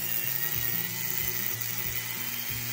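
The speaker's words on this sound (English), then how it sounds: "So let's go ahead and drill out the hole in our stud." A drill with a carbon steel bit, lubricated with 3-in-1 oil, bores a hole in a stud on a Lionel Pullmor motor, giving a loud, close whine that steps repeatedly in pitch as the bit bites and eases.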